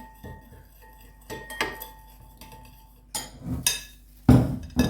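A spoon clinks and scrapes against a bowl while mustard is stirred into water for a potato salad, in irregular clattering bursts that grow louder near the end, with no talk.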